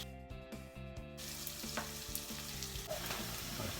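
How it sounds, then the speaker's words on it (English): Onions sizzling in warm oil in a pan, a steady close hiss of frying that rises after a brief start, with faint stirring clatter. "Hear them sizzle. That means the oil's warm enough."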